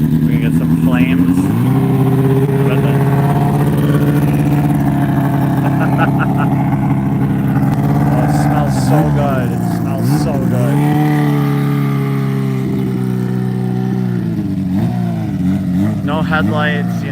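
A cammed race motorcycle engine revs hard in repeated rising and falling blips, close and loud, with the pitch sweeping up and down over an uneven idle while people talk in the background.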